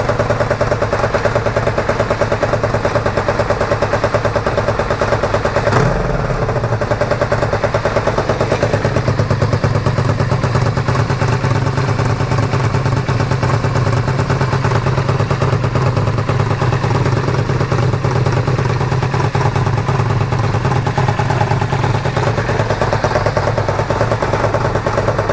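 A Honda VF1000F2 motorcycle engine, newly transplanted into the bike, runs at a steady idle up close, its low rumble continuous and loud throughout with a brief dip partway through.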